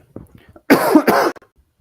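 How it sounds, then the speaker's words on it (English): Two sharp, harsh coughs in quick succession, close and loud, after a moment of faint breathing. "I'm having a bad cough today"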